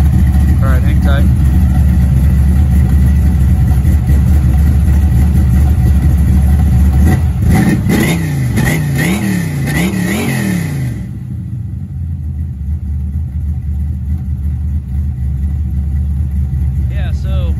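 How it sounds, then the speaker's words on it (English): A 1980 Chevy Malibu with a Comp cam idles with a loud, lumpy rumble, then revs in a few rising and falling pulls before settling back to a quieter idle. "give it a little rev and let you hear it"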